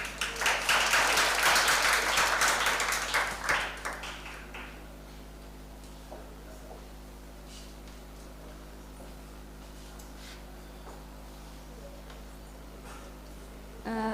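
Conference audience at a women-in-fintech hackathon applauding after a presenter finishes, a burst of dense clapping for about four seconds that fades out, leaving a quiet room with faint ticks and low hum.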